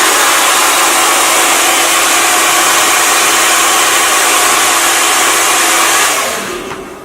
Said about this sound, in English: take your hairdryer on the highest setting, and keep the nozzle pointed down